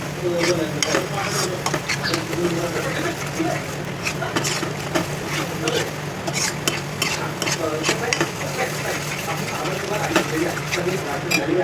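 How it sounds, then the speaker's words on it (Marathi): A thick mango barfi mixture is stirred in a pan over a gas flame, giving a steady, close scraping and soft sizzle with frequent utensil clicks against the pan throughout. "तर आपल्याला हे आता चांगलं मिक्स करून घ्यायचं आहे."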